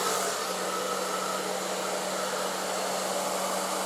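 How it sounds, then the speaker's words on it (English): An ETI Turbodryer Professional hair dryer runs steadily at close range, a constant airy whoosh with a low motor hum and no other sounds. "it's a pretty quiet hairdryer"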